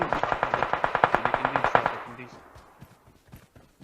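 Rapid automatic gunfire from a shooter video game, a steady burst of about twenty evenly spaced shots over two seconds that then stops, leaving a fading tail and faint clicks.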